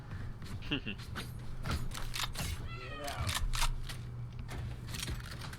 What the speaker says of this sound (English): What is this cat doing, man?